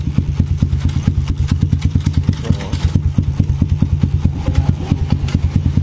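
A Kawasaki KLX/D-Tracker motorcycle engine runs loud and close with a fast, even thumping beat, and a brief shift in tone comes midway as the gears are changed. The engine keeps pulsing steadily throughout, with no voices over it.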